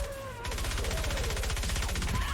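Rapid gunfire from the Swan Gun, a fast-firing weapon in Fortnite Save the World, rattling off as a dense, continuous stream of shots after a brief lead-in, loud and close with no talk over it.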